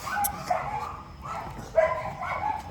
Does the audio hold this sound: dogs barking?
yes